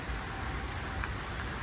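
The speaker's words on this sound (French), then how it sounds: "j'attends que la pluie cesse. Elle est un peu longue, celle-ci." Steady rain falls in a tropical coastal town in Thailand, a dense, even patter and hiss of drops on surfaces that holds constant throughout, with no talk.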